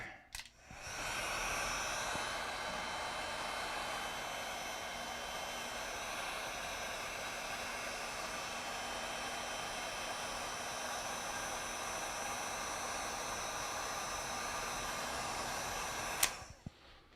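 A heat gun blows hot air onto heat shrink tubing during a field charging rig build, a steady loud whooshing hiss held for about fifteen seconds before cutting off with a click.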